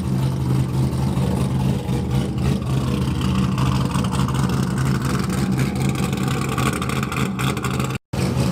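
A cammed Chevrolet Corvette C5 V8 idles loudly and roughly near the listener, a steady lumpy rumble with a choppy, uneven lope that runs the whole time and cuts out briefly near the end.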